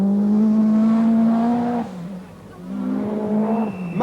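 A Lancia rally car at the 1986 Lombard RAC Rally storms past at speed, its engine note rising loud and strained, dropping briefly, then revving hard again under acceleration, with a hint of tyre noise.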